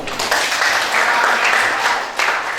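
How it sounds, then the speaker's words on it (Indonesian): Students in a classroom clap their hands together in a loud, continuous burst of applause that fills the whole stretch, dipping briefly near the end before resuming. "berarti tepuk tangan itu semua"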